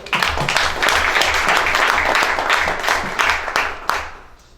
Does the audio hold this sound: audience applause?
yes